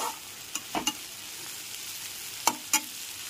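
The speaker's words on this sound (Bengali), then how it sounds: "গ্যাসের ফ্লেমটা মিডিয়ামে রেখে আদা রসুন বাটাটা পেঁয়াজের সাথে খুব ভালো করে কষিয়ে নিয়েছি" Ginger garlic paste and onions frying in a pan over a medium gas flame, a soft steady sizzle broken by a few sharp scrapes and clinks of stirring, close and moderately loud with no talking.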